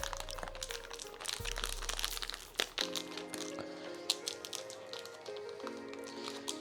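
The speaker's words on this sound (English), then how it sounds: "They really don't make this easy to open, do they?" A plastic packet of Scotch Finger biscuits is crinkled and wrestled open in a kitchen, with steady crackling and crunching for several seconds, close and continuous, with a few sharper cracks and low music in the background.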